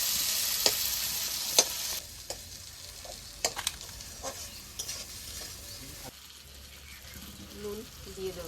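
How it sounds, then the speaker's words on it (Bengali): Onions fry in a pan, with a faint, steady sizzle and occasional clinks and scrapes of stirring, quieter toward the end, while someone talks nearby. "পেঁয়াজটা ভেজে নেব।"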